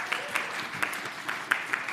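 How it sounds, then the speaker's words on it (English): Applause from an audience for actors after a church skit, a steady wash of clapping with a few louder bursts, continuing at an even level throughout. "Everyone give our actors a round of applause"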